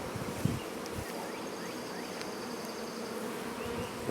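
A colony of bees that has settled in a cat house hums as a steady, close swarm, with individual insects whining past now and then over the continuous drone.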